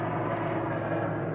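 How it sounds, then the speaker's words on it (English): Airplane passing overhead, a steady broadband rumble and roar that holds evenly throughout with no voices. "Just plane going overhead."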